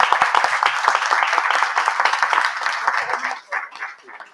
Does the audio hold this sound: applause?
yes